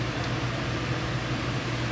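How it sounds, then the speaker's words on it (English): Electric fan running in a hot room in Arizona, a steady, even whooshing hum with a low drone, continuous and moderately quiet, with no voices. "Sorry about the fan."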